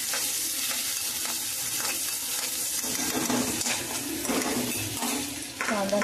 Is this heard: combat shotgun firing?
no